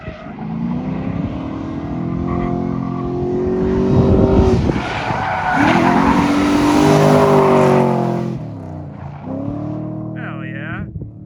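A Ford Falcon, abandoned and running on very low oil, drifts through a section of track at a compound, engine revving hard and tires squealing loudly, with excited voices shouting over it.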